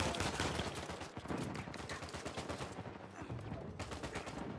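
Gunfire in the Uncharted 4 video game: rapid, loud bursts of shots crackling in quick succession, close and continuous for several seconds amid other game noise.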